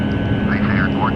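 Boeing 757 jet engines climbing after takeoff in a flight simulator, an Icelandair flight out of Manchester, give a steady, loud, even roar throughout, with a voice faintly over it.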